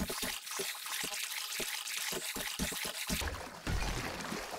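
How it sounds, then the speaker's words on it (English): Water trickling and pouring down into a pit in 7 Days to Die, a steady wet splashing wash with a string of short clicks, swelling louder toward the end. "is that water going to flow back down in there?"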